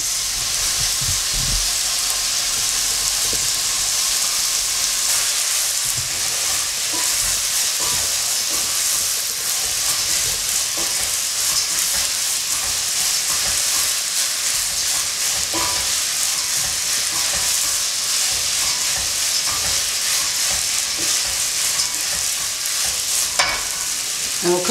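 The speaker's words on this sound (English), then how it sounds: "now I'm going to add the rice" Rice is added to a hot pan and stirred, producing loud, continuous sizzling and hissing throughout, with scattered scraping and stirring clicks on top.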